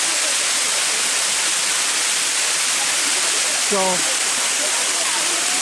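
At Eternal Flame Falls in Chestnut Ridge Park, Orchard Park, the waterfall pours in a steady loud rush of broadband noise, and a voice speaks briefly over it.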